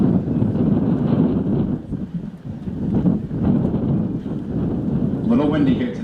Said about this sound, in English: A little windy here tonight.